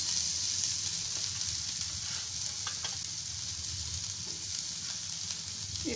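Paneer and cabbage fry in a pan, giving a steady, even sizzle with faint stirring scrapes throughout, no voices.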